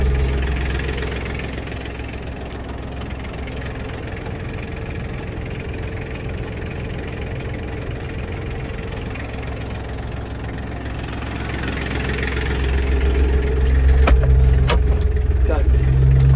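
An ISEKI TK29FF compact tractor engine runs steadily in first gear, a constant low diesel rumble close by that swells slightly near the end, with a few faint clicks over it.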